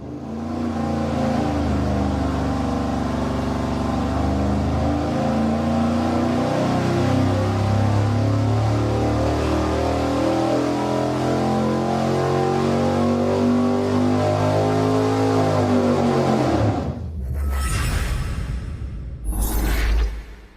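A V8 engine on a dyno fitted with an Edelbrock RPM Air-Gap intake manifold roars through a long, loud rising pull. It cuts off near the end, and a couple of brief bursts follow.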